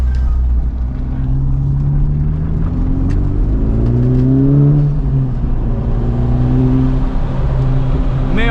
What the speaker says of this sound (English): You may also hear there's a little bit of a spicier exhaust on the Type R right now.